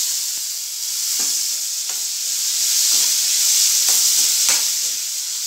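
Onions and tomatoes sizzle steadily in a pan for capsicum curry, a continuous bright frying hiss punctuated by soft periodic scrapes of stirring, close and without talk.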